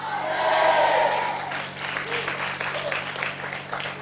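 Applause from a church congregation during a sermon, a dense wash of clapping that swells over the first second and a half, then thins into scattered claps with a murmur of voices.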